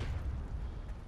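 Frag grenade blast in the video game Heroes and Generals, a heavy low rumbling boom that rolls on and lingers loudly without a sharp attack.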